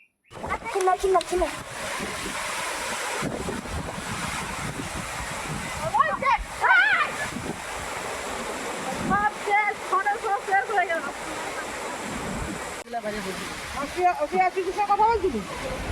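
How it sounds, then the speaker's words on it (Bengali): A Kalbaishakhi storm sweeps through a village in the evening, its strong wind battering the microphone in a loud, rough roar with gusts that rise and fall, while a voice talks over it. "কাল বৈশাখী ঝড়, ভালোই বাতাস দিচ্ছে"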